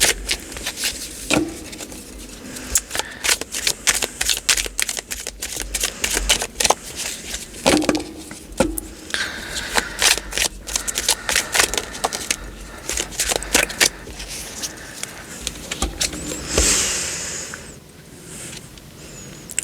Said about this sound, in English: I was just quiet for a minute, faffing about the cards.